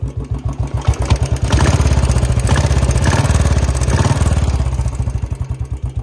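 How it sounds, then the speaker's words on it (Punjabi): A modified BS4 Royal Enfield Bullet motorcycle engine runs close up with a deep, steady thumping beat, swelling louder through the middle as revs rise, then settling back toward a lumpy idle. "ਅਤੇ ਇੰਜਣ ਦੀ ਆਵਾਜ਼ ਸੁਣੋ"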